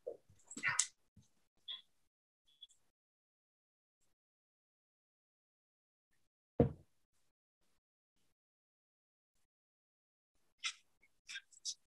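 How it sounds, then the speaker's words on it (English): A dog barks and whimpers in the background outdoors in a quiet natural setting. The sounds come in brief, sparse bursts, a few yips and short cries with long silent gaps between them. "You can hear a dog barking in the background."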